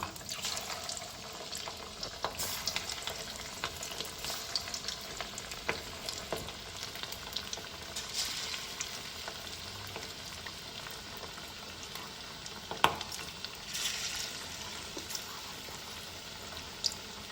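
Steady crackling sizzle of fish frying in hot oil, continuous throughout with occasional sharper pops and spatters, close by.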